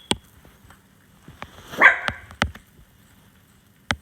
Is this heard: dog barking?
yes